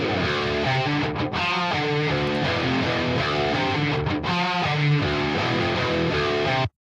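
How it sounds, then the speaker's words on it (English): A sustained, saturated electric guitar tone through an amp simulator with an impulse response, playing steady chords and notes, loud and continuous with a couple of brief gaps before stopping abruptly. "So the guitar with the amp sounds like this."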